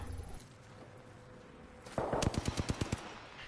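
Gunfire in the video game Apex Legends: after a stretch of quieter background game noise, a rapid burst of about ten evenly spaced automatic shots cracks out loudly near the end.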